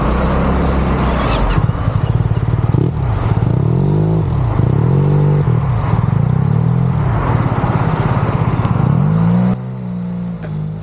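A scooter rides along on the first group outing, its engine loud and close, rising and falling in pitch as the rider accelerates and eases off, with steady wind noise throughout.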